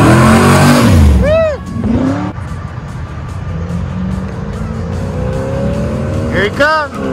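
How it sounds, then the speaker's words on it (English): A Camaro race car accelerates hard at a cruise event, with tire squeal and engine roar up close at the start and again near the end, and a rumbling drive-by between. Crowd voices and cheering are heard throughout. "Here he comes. Camaro."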